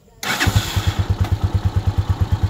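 A motorcycle engine starts up abruptly during a wiring test, then settles into a steady, rapid, loud idle with an even thumping pulse close by.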